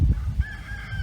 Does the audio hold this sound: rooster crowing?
yes